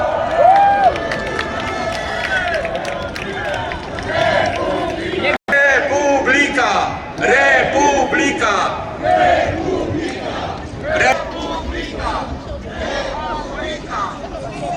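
A dense crowd at an outdoor political rally in Katowice roars and chants, loud and continuous, with overlapping shouting voices and cheering surges and a brief dropout midway.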